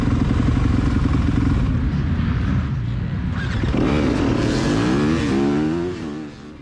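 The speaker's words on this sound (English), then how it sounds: "give the bike a few revs to break the clutch friction" A Yamaha YZ250FX dirt bike engine revs hard and then settles into a rough idle, loud and close, with rising and falling harmonic sweeps before the sound drops off at the end.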